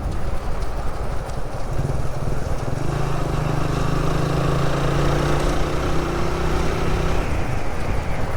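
A vegetable seller's motorbike runs steadily and close by, a continuous engine drone with a low hum that holds for several seconds, no talk over it.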